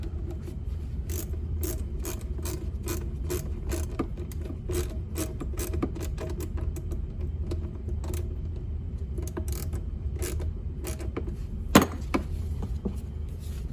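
Hose clamp being tightened on the air intake hose of a 2006 Honda Pilot, a steady run of close, sharp ratchet clicks repeating over low engine-bay hum, with one louder click near the end.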